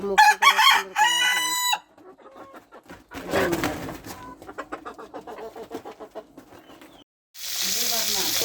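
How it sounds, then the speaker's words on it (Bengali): A village hen about to lay eggs clucks and squawks in bursts nearby, with a sizzling noise briefly at the end. "একটা মুরগি এই যে এটা আগে ডিম পারবে"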